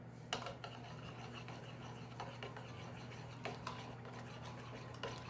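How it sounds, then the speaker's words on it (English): A spoon stirring a vegetable casserole mixture in a dish, giving soft scraping and rubbing strokes with occasional light clinks against the side, fairly faint over a steady background hum. "And now we're going to give this a stir."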